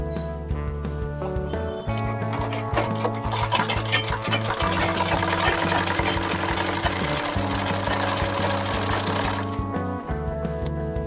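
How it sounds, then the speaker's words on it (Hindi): A sewing machine stitching a double seam on a salwar, running steadily with a fast mechanical whir and rattle, close and continuous, with slight changes in speed before stopping near the end. "यहाँ पे थोड़ा डबल सिलाई चला दें।"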